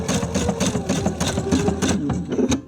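Sewing machine stitching fold over elastic along a seam, a fast steady mechanical whirring chatter with rhythmic needle clicks, close and loud with no talk.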